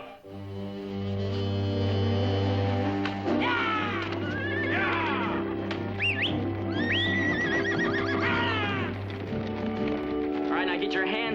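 Several horses whinny and neigh repeatedly, shrill rising calls over a steady sustained background tone, with faint hoof movement as they run off.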